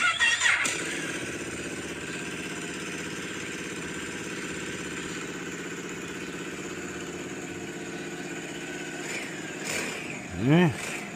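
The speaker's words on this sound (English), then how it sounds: "here's a person showing the factory exhaust, and then a Leo Vinci titanium exhaust" A motorcycle fitted with a LeoVince titanium aftermarket exhaust idles steadily with a deep, even rumble, then briefly revs up near the end.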